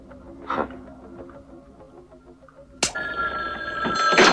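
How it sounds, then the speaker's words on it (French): A telephone ringing in a 1986 horror film, its bright electronic bell starting abruptly and continuing loudly near the end after a quieter stretch of room sound. "Le téléphone."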